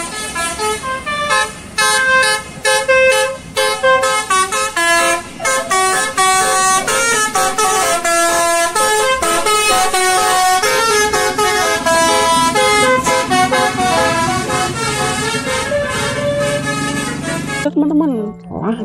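A Fadil bus sounds its horn, playing a loud, close melodic tune of rapid toots and sustained notes that goes on for many seconds before cutting off abruptly.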